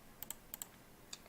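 A few quick keystrokes on a computer keyboard in Adobe Illustrator, two pairs of light clicks and then one more, close and quiet against a faint background hush.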